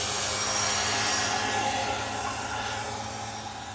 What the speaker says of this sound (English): turn my blower on.